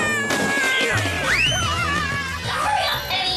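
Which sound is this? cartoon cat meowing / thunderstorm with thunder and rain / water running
cartoon cat meowing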